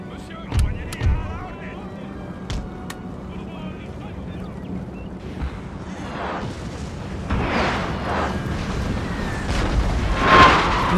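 Napoleonic cannons firing at armed civilians and regiments during a Spanish battle in Total War: Napoleon, heard as a few muffled booms that grow louder toward the end over a low rumbling background.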